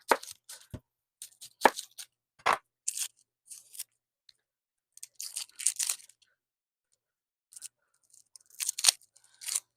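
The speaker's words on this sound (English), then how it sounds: "We'll have to cut up onions." Knife cutting onions on a kitchen counter, a Vidalia onion, heard as sparse, irregular crisp chops and slicing crunches with gaps of quiet between bursts, close and fairly quiet, no talking.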